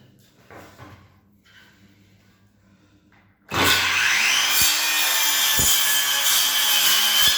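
A Dnipro-M DSC-200BC cordless circular saw bites into a wooden board from the reverse side, a loud sudden whine that holds steady to the end after a few seconds of quiet handling.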